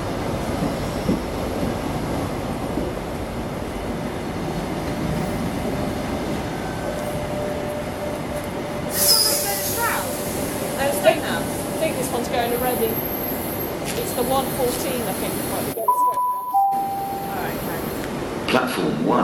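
Great Western Railway Class 43 HST train standing at a station platform, a steady low rumble and hum of rail noise throughout with brief squeals and a faint announcement-like tone, heard from close by.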